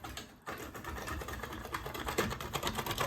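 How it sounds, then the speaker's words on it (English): A black truffle is grated and thinly sliced, producing a close, rapid, continuous scratchy rasping that runs steadily after a brief pause near the start. "I'm grating the truffles, but I'm also doing thin slices."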